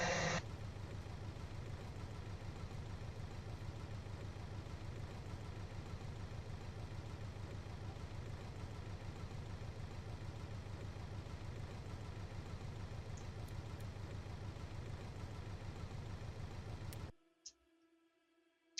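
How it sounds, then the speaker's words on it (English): A flat-four car engine from the game Automation idles with a deep, steady, rumbling drone that holds evenly for about seventeen seconds and then cuts off abruptly. "This flat four engine sounds like a Panzer"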